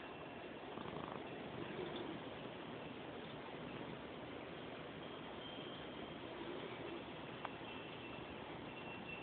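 A cat purrs steadily and softly, close by, a continuous low rumble throughout with no talking.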